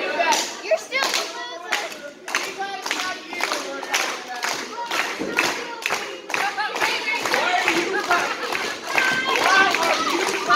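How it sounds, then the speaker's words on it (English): People clapping at a backyard wrestling event, a rhythmic, fairly close round of claps that grows denser, with children's voices shouting over it. "Why are you clapping?"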